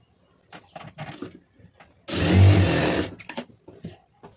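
A sewing machine stitches the lining of a blouse in one short burst of rapid mechanical whirring, framed before and after by a voice talking.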